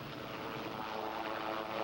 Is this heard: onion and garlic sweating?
no